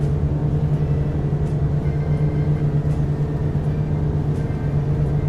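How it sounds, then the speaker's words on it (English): Turbocharged piston engines of a Black Square Grand Duke twin in a flight simulator spool up, a steady loud droning hum with a strong low tone that holds unbroken throughout, no voices over it. "Listen to those turbocharged engines fly into life"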